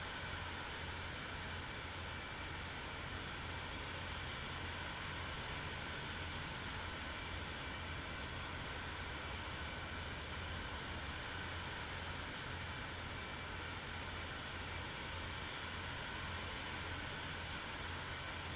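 An airliner taxis along the ground in Microsoft Flight Simulator 2024, its engines giving a faint, steady broadband hum that holds unchanged throughout with no voices over it.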